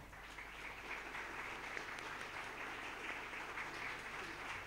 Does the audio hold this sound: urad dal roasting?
no